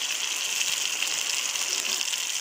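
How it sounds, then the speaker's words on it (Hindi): Water pours steadily into a pan of mustard masala for a fish curry, a close, continuous gushing hiss that holds level throughout with no talking. "अब इसमें पानी रखेंगे"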